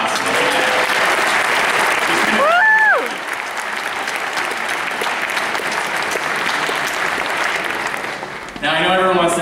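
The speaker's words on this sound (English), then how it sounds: "I'll give you a round of applause" A graduation ceremony crowd claps steadily through the clip, a dense sustained wash of applause with a few whoops and cheers rising over it, before fading near the end as a voice begins.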